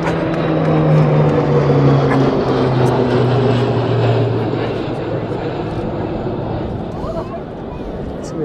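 Military aircraft fly over the Trooping the Colour ceremony in London, a loud, sustained droning engine roar with shifting tones that slowly fades toward the end, while a crowd chatters nearby.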